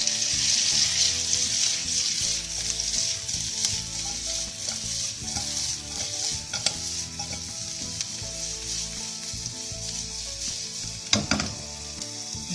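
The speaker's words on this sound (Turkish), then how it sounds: "Şimdi bunları soteliyoruz." Vegetables sauté in a hot pan with a continuous close sizzle. Irregular scraping and stirring knocks break into it, along with a brief louder clatter near the end, and nobody speaks.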